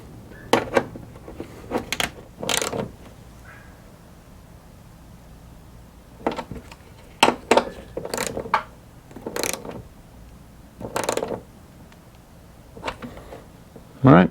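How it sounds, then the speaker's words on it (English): Ratchet with a 10mm socket tightening hood strut bolts on a Jeep JL during a Redline Tuning hood strut install, short bursts of rapid clicking spread through the clip with quiet gaps and someone talking in between. "we're just going to tighten these down with our 10mm."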